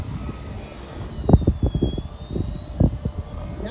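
Radio-controlled model airplane flying high through a slow roll, its thin engine whine sliding down then back up in pitch, heard from a distance with rough gusty bumps of wind noise at the microphone.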